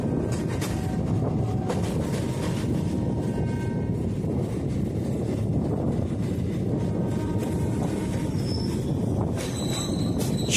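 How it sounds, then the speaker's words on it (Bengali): A Sealdah–Dankuni local train pulls into Dum Dum Junction on the Kolkata chord line, giving a continuous loud rumble of wheels and carriages with faint squeals and tones. "6 কিলোমিটারের যাত্রা কমপ্লিট করে আমাদের ট্রেন এখন এসে গেছে নিজের জার্নির সেকেন্ড হল্ট দমদম জংশনে"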